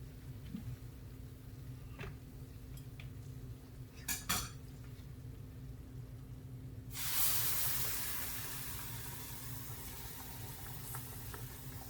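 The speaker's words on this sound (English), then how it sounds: "I'm going to add my tomatoes first." Tomatoes go into a pan of cubed steak with a few metallic clinks of utensils. A sudden hissing sizzle then rises and slowly settles into a steady fry.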